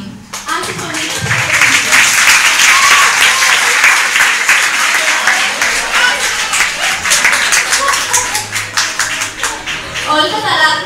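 A school audience at an anti-bullying debate breaks into loud, sustained applause. The dense clapping rises quickly and holds for several seconds, with some voices mixed in, then thins out near the end.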